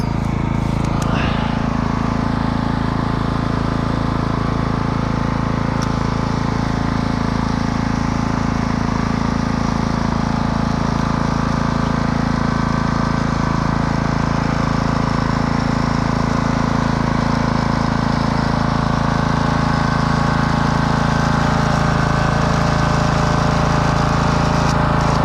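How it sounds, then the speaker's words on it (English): A Husqvarna lawnmower engine rigged as a custom winch skidder runs continuously, a loud, close, steady droning hum with no breaks across the whole stretch. "And this is our lawnmower winch skidder."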